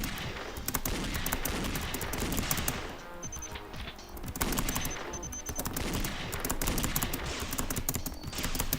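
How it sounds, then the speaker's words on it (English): Rapid gunfire in the video game Danganronpa Another during a class trial, dense bursts of shots rattling almost continuously with brief gaps, loud and up front with no talking. "I'm shooting"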